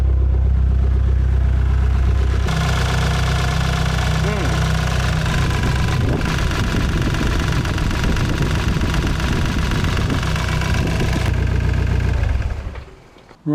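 Volvo S40 engine starting up and settling into a steady idle, a loud continuous mechanical hum with a rattling knock running for over ten seconds before cutting off.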